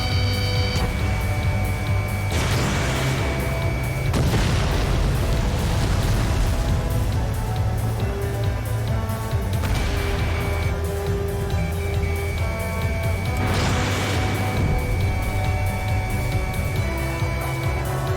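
Missiles strike targets in the jet combat game Ace Combat 7, with several heavy, rumbling blasts bursting out of a constant loud roar of jet engines and game sound.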